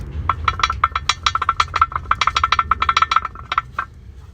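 A worn ball joint on a removed control arm from a 2013 Mazda CX-5 rattles in a quick burst of metallic clinks and knocks, close and fairly loud, lasting about four seconds.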